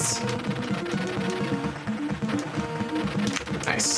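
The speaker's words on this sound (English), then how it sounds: "Machine gun, auto fire, love it." Rapid auto-fire machine-gun bursts from the NES game Super C rattle in tight repeated pulses over game music, with bright blips near the start and end.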